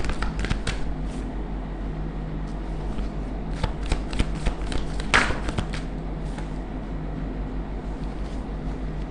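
A deck of tarot cards being shuffled up close, with crisp riffling and flicking that comes in quick bursts over a low steady background hum.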